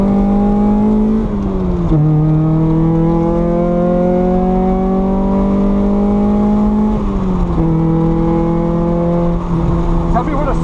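A 1990 Honda Civic with a B18A1 engine accelerates on a race track, its loud, steady engine note climbing in pitch, dropping briefly at two gear shifts, then rising again, heard close from inside the car.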